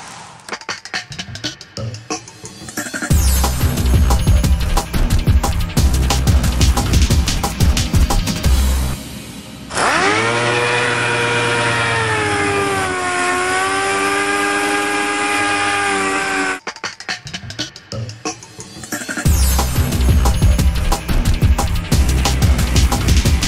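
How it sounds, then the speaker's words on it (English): Compressed-air sander working over Bondo on a car body, loud bursts of buzzing grinding at the start and end with a steady whining, harmonic hiss from the air tool in between. "I blew the work pad off the compressor sander machine"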